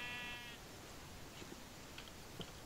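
A sheep bleats in the Minecraft video game, a short faint call standing out once against steady background hiss, with no one talking over it.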